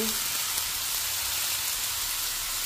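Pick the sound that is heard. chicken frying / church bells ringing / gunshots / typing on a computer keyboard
chicken frying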